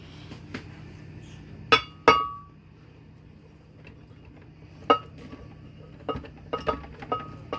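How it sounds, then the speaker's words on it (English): Roasted butternut squash being moved from a hot bowl into a glass blender, with scattered sharp clinks and knocks of utensil against glass over a quiet kitchen background, the hits irregular and fairly faint. "And try to get it in the blender."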